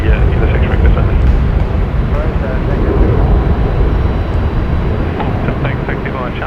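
A departing airliner roars loudly at Brisbane Airport at night, a broad, steady engine rumble filling the whole stretch with faint voices underneath.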